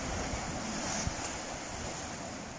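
Steady roar of sea surf with waves washing in continuously against rocks carved into cave-like hollows at a beach, a broad rushing wash that stays loud throughout with no voices.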